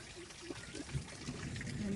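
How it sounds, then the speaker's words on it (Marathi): Rainwater gushes out of a terrace drain pipe during heavy unseasonal rain at a farm in western Junnar, a steady near pour of water running under a person talking. "वरून एक टेरेसचा पाईप आहे त्याला फुल असं पाणी चाललेलं आहे"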